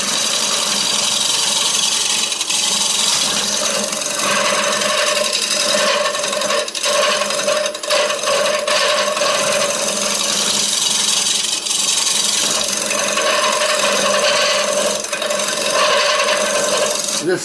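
A hollowing tool cuts into a wooden bowl spinning on a lathe, giving a continuous loud, close scraping rasp with tear-out, rough and uneven throughout, with no talking.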